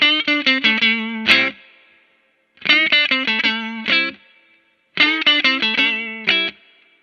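Electric guitar played through a Fender Blues Jr amp and pedal, with the treble being adjusted: three bursts of quick strummed, distorted chords with effects, each ringing briefly and cutting off, separated by short silences, close and loud.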